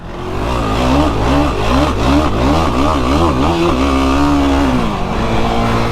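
A 2022 Yamaha Raptor sport ATV ridden hard on a trail, its engine loud and close, revving up and down in quick repeated surges before holding a steady high wail.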